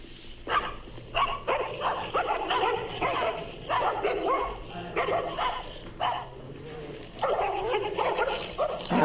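A King Charles spaniel barks and yips in repeated bursts at another dog, with some whimpering between, fairly close over a busy outdoor background.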